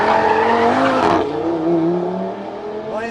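A tuned 400 hp Audi RS3 accelerates nearby with a loud engine roar that climbs through a gear and then settles into a lower, smoother pull as it drives on.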